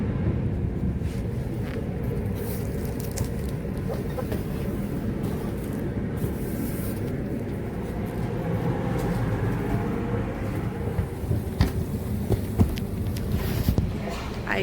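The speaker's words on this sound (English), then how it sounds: "Intercity train 910 to Turku" Steady rumbling and rattling of a moving intercity train heard from inside, continuous and fairly loud, with occasional clicks and knocks, in Finland.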